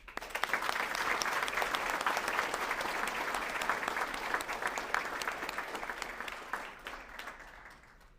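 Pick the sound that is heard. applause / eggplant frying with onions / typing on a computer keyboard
applause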